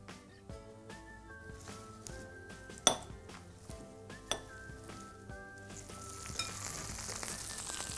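Lamb chops browning in a pan, with clinks and scrapes of utensils against the cookware over a low sizzle that swells louder toward the end.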